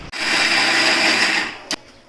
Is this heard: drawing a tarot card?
no